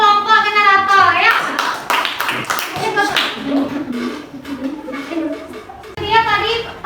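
A classroom of children claps for a student group, a burst of applause mixed with kids' voices and a teacher talking over it.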